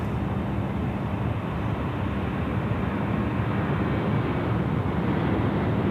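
An Air New Zealand Airbus A321neo at Sydney Airport, heard as a steady, broad jet roar that holds at an even level throughout, fairly distant and with no voices over it.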